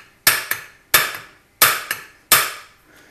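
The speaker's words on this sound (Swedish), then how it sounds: "då kan man knacka till lite på avdragen" A hammer taps a puller on the rear seal of a Volvo M41 gearbox in four sharp metallic pairs, each strike followed quickly by a lighter rebound tap. The blows are close and evenly spaced, with no talking.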